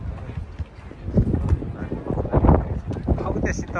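Close hoofbeats of a horse on a Langtang mountain trail, a loose run of clip-clops mixed with wind and people talking nearby.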